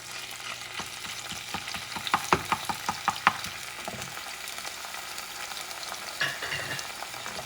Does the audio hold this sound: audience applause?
no